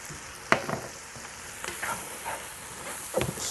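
Mushrooms and softened celery sizzle gently in a pot with a soft, steady frying hiss, broken by a few sharp clicks and scrapes of stirring.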